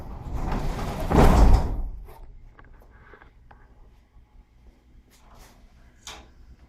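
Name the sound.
garage door being pulled down, winding up the spring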